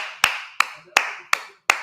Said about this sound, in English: Jason Garrett hand clap.